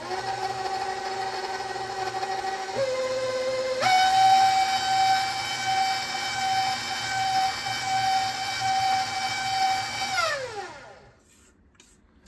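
An old, loud electric mixer beating molasses cookie dough spiced with cinnamon and cloves: a steady high motor whine that steps up in pitch, drones for several seconds, then winds down and stops.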